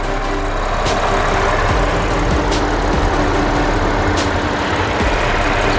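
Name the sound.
Audi A6 3.0T supercharged V6 engine idling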